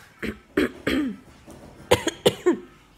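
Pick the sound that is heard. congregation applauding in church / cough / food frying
cough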